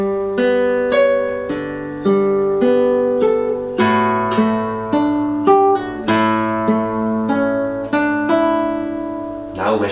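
Fingerstyle acoustic guitar plays a passage of a piece from Lord of the Rings, steady plucked notes ringing over held bass tones, close and clear with no talking.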